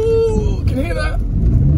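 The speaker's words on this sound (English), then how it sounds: "Wheel spin." A lowered Volvo spinning its wheels while off-roading, with a loud, steady engine rumble and revving throughout, and people talking over it.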